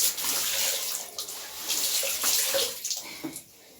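Laundry being washed by hand in a bathroom: continuous splashing and running water with sloshing bursts, steady and fairly close, no voices.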